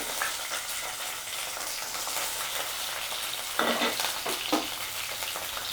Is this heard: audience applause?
no